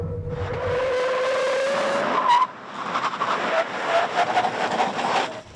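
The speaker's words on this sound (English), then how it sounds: "And we do brake tests." An SUV or pickup truck brake test on a test course: a sustained, loud tire skid and squeal that rises in pitch, then breaks into shorter scrubbing squeals as the vehicle slows, with no talk.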